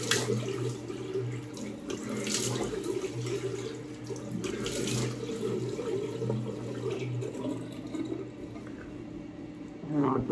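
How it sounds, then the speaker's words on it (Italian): Cold tap water runs into a sink for rinsing after a shave, a steady soft splashing flow heard fairly close but quietly, with a faint voice in the background. "sciacquo con acqua fredda."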